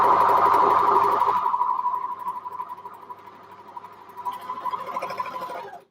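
A sewing machine stitches knit tops in a steady, close mechanical whir that slows and softens midway, then speeds up again near the end before stopping, with no talking.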